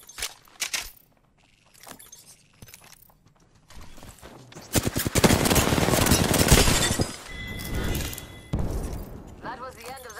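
Rapid automatic gunfire erupts in an Apex Legends Season 5 trios match played as Octane, dense sustained bursts swelling loud in the middle after sparse clicks and shots, then easing into scattered shots.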